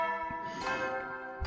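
A bright two-tone ding-dong chime sounds ahead of the morning announcement in the video game The Hundred Line: Last Defense Academy, its ringing tones sustaining clearly on their own with no talk.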